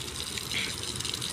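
Water runs from an outdoor tap in a garden park in Lucknow, a steady rushing gush that continues without a break for the short moment.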